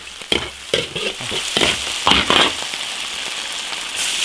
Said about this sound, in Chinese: 花椒、香料、干辣椒， 把所有的调料都炒香。